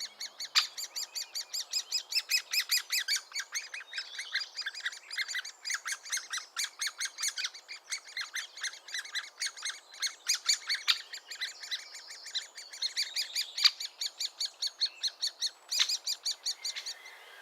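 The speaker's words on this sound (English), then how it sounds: "Great spotted woodpeckers." Great spotted woodpeckers call in a sharp, repeated series of high chirps at a dried riverbed site in Staffordshire. Several birds sound close and fairly loud, with a steady run of calls that never stops and no voices.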